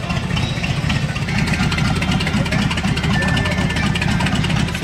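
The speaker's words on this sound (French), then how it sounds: "Elle fait vraiment un bruit de bateau. Vous entendez le ralenti?" A loud, rumbling Excalibur classic car engine idles steadily with a deep, throbbing, boat-like burble, close by, with no other sounds over it.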